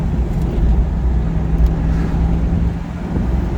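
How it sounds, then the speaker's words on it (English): Steady road and drivetrain noise inside a moving car whose rear end whines in third, fourth and fifth gear, a loud constant rumble with a faint tonal whine running underneath. "whine coming from the rear end, especially in third and fourth and fifth gear"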